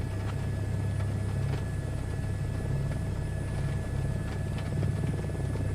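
Helicopter flying in a VR flight simulator game near Saarbrücken Airport, a steady low rotor drone and engine hum held at even loudness throughout, with no talk.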